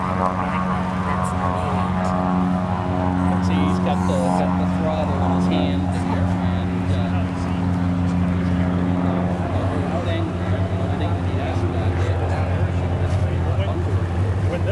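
A small aircraft engine drones steadily and loudly in flight, a constant buzzing hum with tonal layers that shift slightly as the throttle changes, while a person talks over it.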